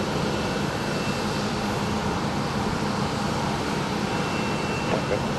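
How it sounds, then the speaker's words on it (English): Airplane engines roar steadily on a rainy day at Dallas Love Field while a jet lines up for takeoff on the runway, the broad, continuous rumble holding level and fairly loud throughout with no break. "I think it's finally getting into position to take off."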